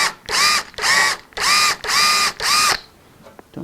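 Power drill boring a 1/4 inch pin hole in a shop, five loud whining bursts of roughly half a second each with short pauses between, ending in quiet.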